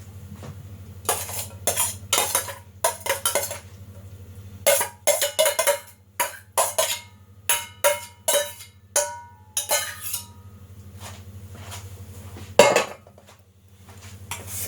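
Diced cucumber is mixed into a pasta salad in a bowl, a spoon scraping and clinking against the dish in repeated rhythmic strokes close up, then pausing, with no talking.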